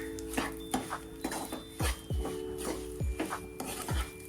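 Desi jaggery being stirred into a gundar sukhdi mixture with the gas flame off: repeated soft scraping and rubbing strokes against the pan in an irregular rhythm, close and moderately loud, with no talking.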